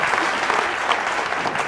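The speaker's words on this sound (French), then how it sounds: "Applaudis-moi." A crowd applauds at a French-language talk event, a dense, steady wash of clapping that stays loud and even for a short burst.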